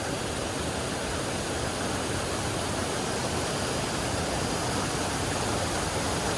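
Cold river water rushing along an Appalachian Trail crossing, a loud, dense, unbroken hiss and roar of flowing current, steady from start to finish with no voices.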